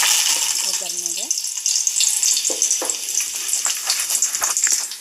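Curry leaves sizzle in hot oil for tempering a ladies' finger stir-fry, a steady bright crackle close by with a few short stirring knocks and faint voice-like tones early on.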